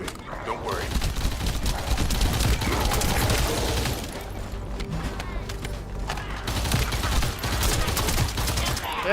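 Rapid sustained video game gunfire, steady dense shots running loud throughout with mechanical clatter beneath during an armored vehicle escort mission.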